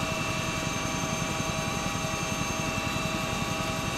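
A helicopter engine in a military video game drones steadily throughout, a constant whirring hum with a fast rhythmic rotor pulse underneath, close and continuous with no voices.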